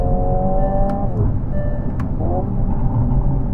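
Simulated engine sound from a Hyundai Ioniq 5 N electric car, rising in pitch like revving through gears with a sharp crack-like blast midway, then a dip and renewed climb, loud and continuous over low rumble.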